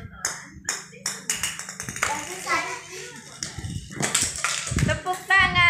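A small child claps her hands in a few sharp, close taps, surrounded by the child's own chatter and babbling at home.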